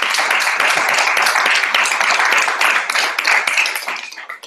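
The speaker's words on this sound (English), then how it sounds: "Another round of applause." An audience applauds warmly for several seconds after a talk, dense clapping that begins to thin out at the end.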